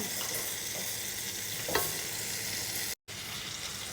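Lotsi flatbread fries in oil in a pan, a dense, even sizzle throughout with one brief scrape near the middle and a momentary dropout just before the end, with no voices.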